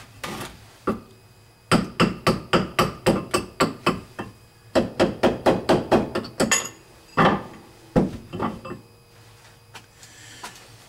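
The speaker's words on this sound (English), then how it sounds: "you can keep tapping it away and closing in those ends a little bit" A hammer taps a coin ring on a mandrel during coin ring making, landing crisp, loud metallic strikes in quick runs of about eight to ten blows, with short pauses between the bursts.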